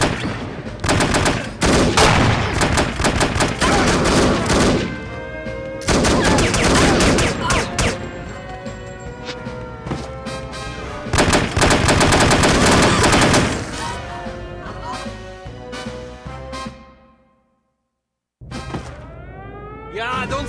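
Gunfire in the PC shooter The Operative: No One Lives Forever, loud sustained bursts of automatic weapons and rapid shots crackling over busy game sound, breaking off briefly to silence near the end before resuming.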